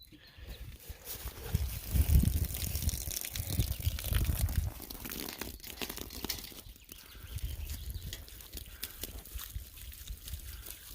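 Water gushing from an off-grid gravity-fed system into a 3,000-gallon tank, a steady broadband rush that surges loudest early on, then settles into a continuous, slightly weaker flow with intermittent splashing.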